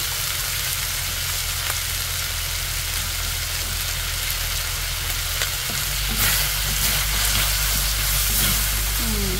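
Onion sizzles in a small amount of hot oil in a pan, a loud steady frying hiss that swells slightly as it is stirred, close up and without talk.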